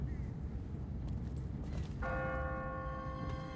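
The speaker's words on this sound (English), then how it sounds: "What kind of church bell goes off at 20 past the hour?" Church bell in The Walking Dead game strikes once and rings on with a sustained, slowly fading metallic tone, heard at moderate distance over a low rumbling background with faint hoof-like clatter.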